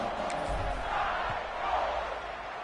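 A home crowd filling a college football stadium, a steady, distant roar of cheering and shouting that swells slightly and then holds, with no clear talking on top.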